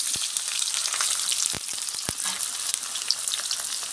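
Chopped onions with a bay leaf frying in hot oil, a loud steady sizzle close up, broken by a couple of sharp spatula taps against the pan.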